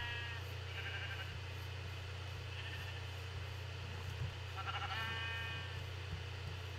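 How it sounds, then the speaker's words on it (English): Several sheep bleat in a Minecraft game world, their short wavering cries coming in a few separate bursts over a steady low hum, moderately faint and with no talking. "Okay, bunch of sheep again."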